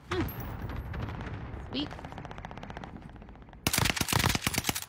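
Rapid automatic gunfire in a multiplayer shooter video game, bursts of sharp shots at the start and a dense, loud volley near the end, with a player speaking briefly over it.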